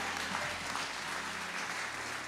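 A church congregation applauding the Lord during a French-language worship service, a soft, distant wash of clapping over a low steady hum, holding evenly throughout without distinct voices.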